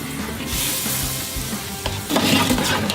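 Butter melting in a hot pan on a smoker or grill as the base for a mac and cheese roux, giving a steady close sizzle and crackle with light stirring scrapes, growing louder near the end.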